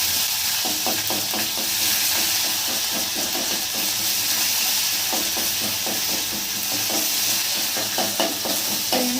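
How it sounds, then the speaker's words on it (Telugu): Ginger garlic paste sizzles and spits in hot oil with curry leaves and fenugreek, a steady close frying hiss broken by scraping stirs, no voices. "అల్లం వెల్లిపాయ మంచిగా గోరింది"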